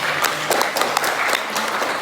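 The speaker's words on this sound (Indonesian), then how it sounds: "Tepuk tangan dulu luar biasa." Audience clapping after a lecturer's call during a university teaching-skills session, a dense burst of many hands clapping at once, loud and sustained, with no one speaking over it.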